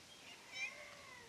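A cat lets out a faint, short meow outdoors, quiet and distant, with a soft rising and falling tone.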